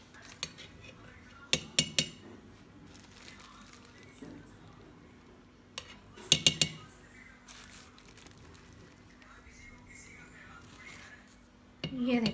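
A tablespoon clinks against a metal bowl or pan as flour goes into nehari gravy, a few quick sharp metallic taps in small clusters spread across a quiet kitchen background, close and bright.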